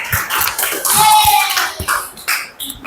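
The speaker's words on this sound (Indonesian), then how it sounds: "kalian tepuk tangan untuk kelompok terakhir" A class applauds the last group, a dense burst of many hands clapping close by, with a few sharper claps and a voice mixed in as it tapers off.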